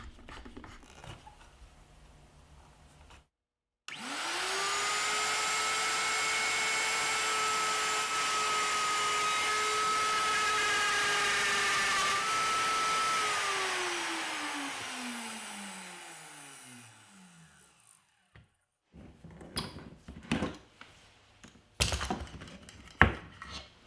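Plunge router cutting a mortise for a Soss hinge in cabinet wood, starting abruptly and holding a loud, steady high whine for about twelve seconds before spinning down, followed by light clunks and handling noises.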